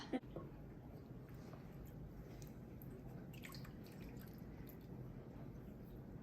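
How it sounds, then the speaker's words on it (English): A steady, soft trickle of liquid pouring into a pot while baking cookies runs for several seconds, low and continuous, with a brief clunk at the start and faint background noise. "pour it in the pot."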